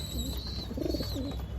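Pigeons in a home loft at dusk, some of them sick with a cold, give soft, low repeated coos close by against a steady background hum.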